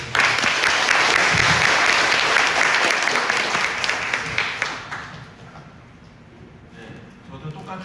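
An audience at a Cheonho-dong redevelopment project briefing applauds to welcome the integration committee chairman, a dense, loud burst of clapping that thins out and fades toward the end.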